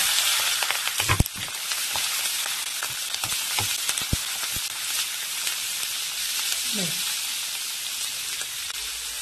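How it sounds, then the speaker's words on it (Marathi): Chopped capsicum frying with garlic in a pan for a dry Maharashtrian stir-fry, a steady broadband sizzle throughout with occasional louder crackles and stirring clinks, close and alone without talk. "थोडा लालसर लसूण झाला की त्याच्यात आता आपली ही कट केलेली शिमला मिरची आपण टाकून घेऊ"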